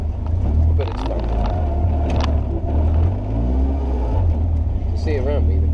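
A Caterham Seven 270S on the move gives a loud, steady engine drone and road roar that fills the whole stretch, with a voice talking over it throughout.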